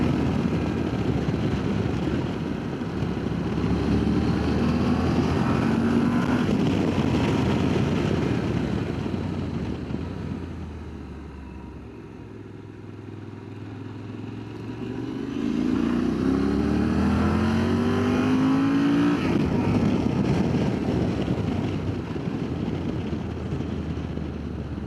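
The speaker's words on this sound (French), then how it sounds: "voir si on entend bien le son du moteur et ma voix, et puis surtout le vent" A motorcycle engine drones steadily while riding, with heavy wind buffeting throughout, easing briefly mid-way before the engine pitch climbs again with acceleration; no talking.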